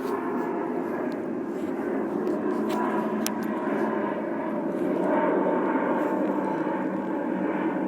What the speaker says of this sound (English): Hold on, I'm going to wait for the plane to pass.